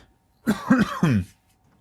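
A short burst of three rough coughs and throat clearing, close and fairly loud, then silence.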